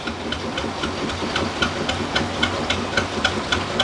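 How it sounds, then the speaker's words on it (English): A 1943 Lister engine on a narrowboat chugs slowly and steadily at low revs, its regular knocking beats loud and close over a hissing background. "I've already asked her about the engine, 1943 Lister. Listen to that."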